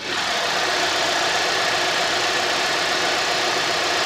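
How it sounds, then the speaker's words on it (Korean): A 2016 Kia K7 GDI engine with about 170,000 km idles steadily with the hood open, a broad, even hiss and a faint ticking rumble, close up and continuous, with no talking. "자 이렇게 엔진룸 열어놨고요 엔진 소리 한번 들어볼게요"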